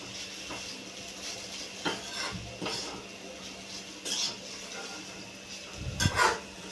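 A spatula stirs garam masala through a leftover-chapati breakfast in a pan, giving a few scattered scrapes and clinks against the metal over a quiet background.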